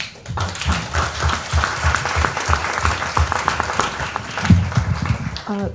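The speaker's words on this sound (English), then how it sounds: "give our autos manufacturing team a round of applause" Audience applause at a school board meeting for the autos manufacturing team, a dense, steady wash of many hands clapping close by for several seconds, with a few brief voices mixed in.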